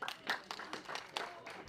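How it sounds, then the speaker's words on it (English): A small group applauds Team Poland at a competition awards ceremony, with scattered, quiet, uneven claps that are fairly distant and brief. "one round of applause for Team Poland"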